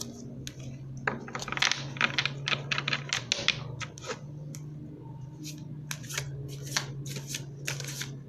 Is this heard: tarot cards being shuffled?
yes